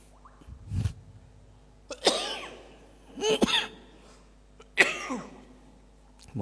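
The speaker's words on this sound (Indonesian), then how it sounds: "Mohon maaf batuk." A man coughs several times, close and fairly loud, one dull cough followed by three harsher coughing bursts spaced about a second apart against a quiet indoor background.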